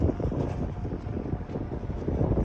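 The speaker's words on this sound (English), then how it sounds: "It's a little windy." Steady wind buffeting the microphone on a cold mountainside climb of Mount Hood, a continuous low rumbling roar with gusty swells, loud and close throughout.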